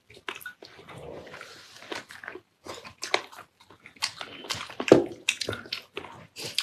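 Someone lip-smacks and chews tender braised pork ribs up close, with wet, sticky mouth sounds and bites coming in quick irregular bursts.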